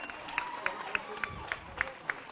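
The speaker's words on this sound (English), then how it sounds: "Oh, more clapping!" Evenly spaced claps ring out at an election night gathering, sharp and mid-distance over a murmuring crowd, with voices talking in the room.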